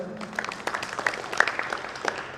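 Scattered, uneven clapping from an audience at a business event, a handful of sharper claps standing out over a thin, quiet patter, fairly faint and irregular.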